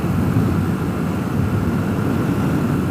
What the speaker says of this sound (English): Some guys flying some airplanes out here.